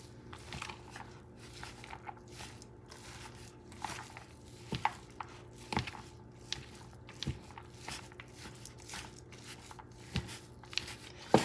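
Stuffing mixture for stuffed Cubanero peppers being mixed by hand, giving soft irregular squishing, tapping and crinkling sounds at close range with a few sharper knocks, and no talk.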